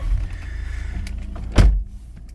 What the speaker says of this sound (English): just foot on the brake and press the start stop button.